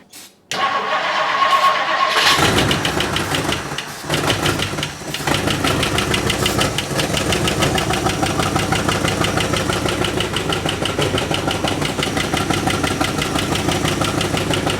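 An engine with a lifter tick cranks briefly, catches and starts, then settles into a steady, loud idle with a fast ticking running through it for the rest of the clip.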